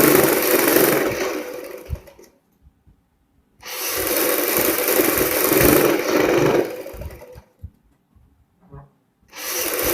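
A sewing machine stitches along a fabric strip for a kurti's high-neck collar: steady whirring bursts of a couple of seconds, separated by quiet pauses, close up, with no talking.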